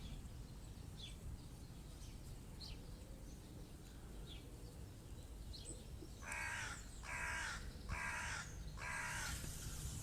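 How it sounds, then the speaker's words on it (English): Several loud, harsh crow caws in a quick series near the end, following fainter distant bird calls over steady outdoor garden background noise in Westcliff. "See the crow up there."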